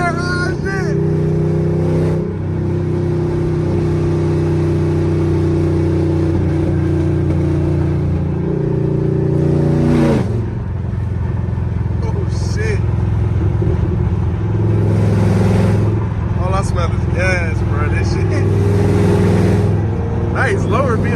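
Deep, loud engine of a Dodge Hellcat with a loud aftermarket exhaust, idling and revving in sustained bursts, with excited voices talking over it throughout.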